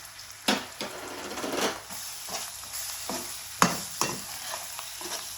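Ginger-garlic paste sizzles softly in a pan while a utensil stirs and scrapes it in several short strokes, close and fairly quiet.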